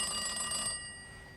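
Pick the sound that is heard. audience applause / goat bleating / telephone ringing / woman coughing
telephone ringing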